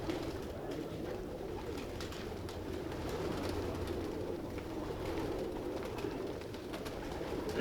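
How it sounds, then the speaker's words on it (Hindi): Amamdeen pigeons coo softly and steadily at a low level, with a faint continuous background murmur and no voices. "ये मेरे अमामदीन कबूतर हैं जी"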